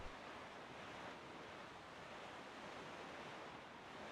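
Steady ocean surf and a soft sea breeze in The Legend of Zelda: Wind Waker, a continuous even wash of waves with no breaks, quiet and distant.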